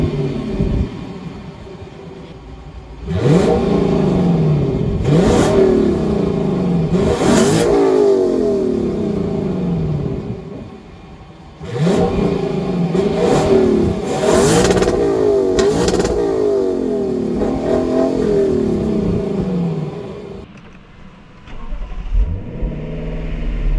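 A 2023 Lexus LC 500 Convertible's engine revs in two long sessions of repeated sharp blips, rising and falling pitch, loud and close, with a quieter idle between and at the end.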